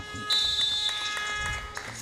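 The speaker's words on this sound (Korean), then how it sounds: "종료 부저가 울리면서 양 팀의 경기가 종료가 됐습니다" Electronic end-of-game buzzer in a 3x3 basketball league game at an indoor gymnasium court, a sustained high tone lasting over a second, loud over arena noise and the low rumble of a crowd.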